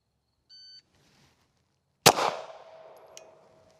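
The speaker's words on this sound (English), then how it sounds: "I'll wait for the beep." A shot timer gives a short electronic beep, then after a pause a single loud gunshot from a Ruger handgun cracks at a range and rings out in a decaying tail.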